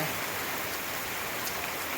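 Steady rain pours down outdoors in the Gir countryside, an even hiss of falling water without pause, moderately loud and alone.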